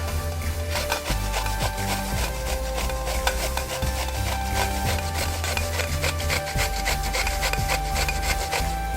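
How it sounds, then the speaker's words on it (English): Peeled bottle gourd rubbed against a metal grater, a steady rasping scrape repeating in quick strokes throughout, close and fairly loud with no talking. "After peeling the Loki, we need to grate it using the grater."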